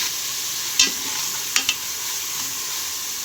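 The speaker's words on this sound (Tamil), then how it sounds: "அடுத்து தக்காளி அதையும் நல்லா வதக்கி விடணும்" Ginger, garlic and tomato sauté in a pan for a goat intestine curry, giving a steady close sizzle broken by a few sharp scraping stir strokes; no voices.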